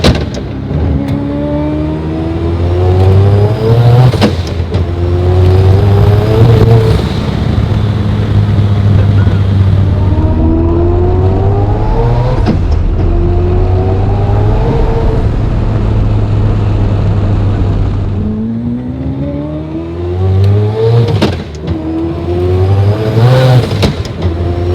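A 1150 hp four-rotor Mazda RX-7 rotary engine revs hard toward 9,000 RPM in repeated loud rising sweeps, dropping back to a lumpy idle between pulls, close by with occasional voices.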